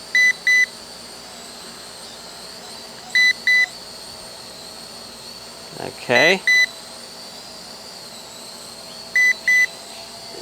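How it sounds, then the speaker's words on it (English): Short paired electronic beeps from a Dynalog drone repeat a few times, fairly faint over a steady hum, with a brief spoken word in the middle. "It's beeping, I'm not sure why."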